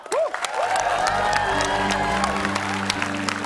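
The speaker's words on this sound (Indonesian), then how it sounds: "Tepuk tangan untuk kelompok kedua." A studio audience on an Indonesian comedy show applauds the second group: a loud burst of clapping mixed with cheers and whoops, steady throughout.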